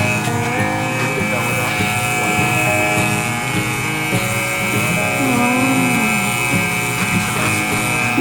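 An electric water pump runs steadily, pumping collected rain water at home into buckets, a continuous motor drone with a faint whine throughout, under occasional voices.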